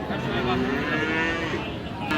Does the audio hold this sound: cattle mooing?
yes